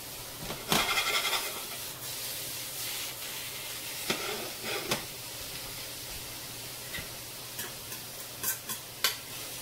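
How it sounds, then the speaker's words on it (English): Julienned onion being broken up and stirred in hot oil for chicken fettuccine primavera, a soft steady sizzle punctuated by sharp spoon clicks and scrapes against the pan. "now I'll break up the julienne onion just to make sure that it gets a good coating of oil in here too"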